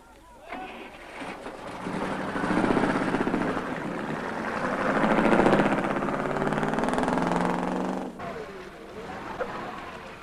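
A vehicle engine rumbles louder as it pulls away, swelling to a sustained mid-range drone for several seconds, then cutting off abruptly, with voices faintly mixed in.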